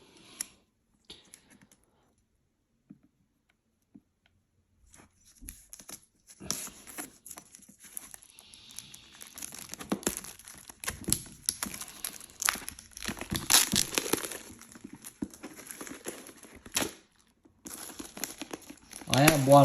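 Plastic shrink wrap crinkles and tears as a 45 RPM four-LP 180-gram vinyl box set of Roger Waters' Amused To Death is unwrapped. Quiet handling comes first, then sustained close crackling and rustling, with a voice talking over it.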